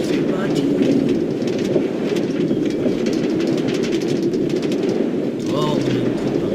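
A train ride in Minecraft gives a steady, loud rolling rumble with faint clicking throughout, holding level for several seconds with no break.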